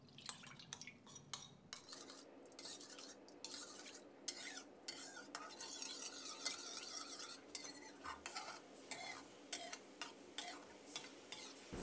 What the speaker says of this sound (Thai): ให้เราคนส่วนผสมน้ำซอสของเราให้เข้ากันนะครับ